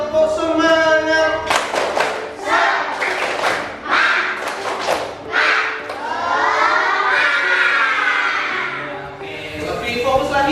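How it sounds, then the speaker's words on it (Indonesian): Schoolchildren in a classroom perform a rhythmic spirit clap chant, sharp patterned group claps and taps followed by loud shouted chanting voices, close and energetic, ending with a final burst of claps. "Tepuk semangat."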